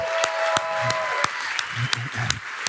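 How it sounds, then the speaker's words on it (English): Audience applause at a Funnel Hacking Live 2017 marketing event: a scattered crowd clapping with sharp individual claps standing out over a steady wash, and a steady tone fading early on. "Let's give him a huge round of applause"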